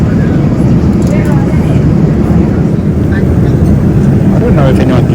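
Inside an airplane cabin during a flight to Las Vegas, a heavy, steady low engine drone fills the air, with indistinct voices faintly present beneath it.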